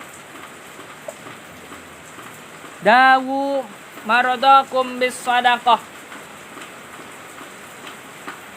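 Rain falls in a steady, continuous soft hiss that persists through the whole stretch. It comes through quiet gaps and under a voice as he preaches a Sundanese sermon.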